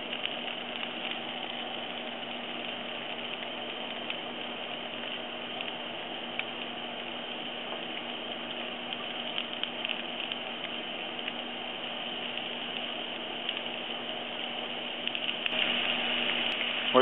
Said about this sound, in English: we're going to go ahead and add that venison to the pan